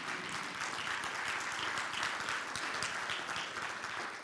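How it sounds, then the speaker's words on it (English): An audience at an energy policy forum breaks into applause, a dense steady wash of many hands clapping that holds at an even level throughout, with no voices over it. "well, okay, clap for that."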